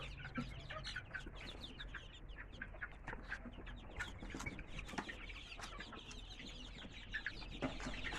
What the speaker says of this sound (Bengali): আমাদের অরিজিনালি মিশরি ফার্মি মোরগ